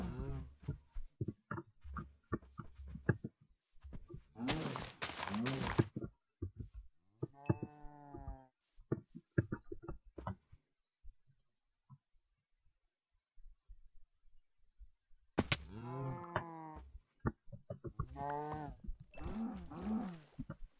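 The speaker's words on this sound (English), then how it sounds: "I'll kill some cows." Cows in the video game Frontal Axis give several low moos at intervals, separated by stretches of silence, with someone talking between them.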